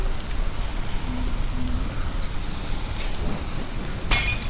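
Steady rain falls in the video game Dead Island, a dense continuous patter with faint distant rumbling, loud and close, and a brief sharper burst near the end.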